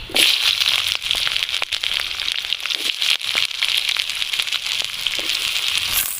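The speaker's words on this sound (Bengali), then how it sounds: "সরষের তেল, তেলের মধ্যে দিয়ে দেবো গোটা গরম মশলা, দিয়ে দেবো পেঁয়াজ কুচি" Chopped onion and whole garam masala spices hit hot mustard oil, giving a steady, close crackling sizzle with brief sharp pops throughout.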